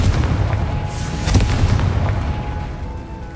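A Confringo blasting spell explodes in Hogwarts Legacy, a loud, deep, rumbling boom with a sharp crack partway through, set in a dense, sustained roar that fills the whole stretch, with no voices.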